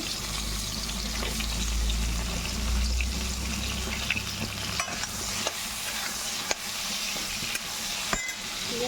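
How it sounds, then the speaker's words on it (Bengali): Pointed gourd (potol) frying in oil in a pan while being stirred: a steady close sizzle with occasional sharp clinks of the spatula against the pan, and no talking. "পটল ভাজা হচ্ছে"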